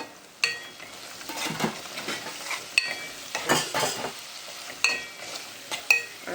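Detki fish keema cooks in a pan, a quiet sizzle under repeated stirring, with spoon scrapes and sharp metallic clinks against the pan at irregular intervals.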